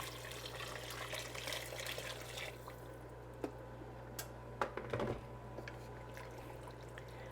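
Boiled water from a tea kettle is poured into a pot of spicy autumn soup, a steady rushing splash for a few seconds that fades to quieter trickles and drips.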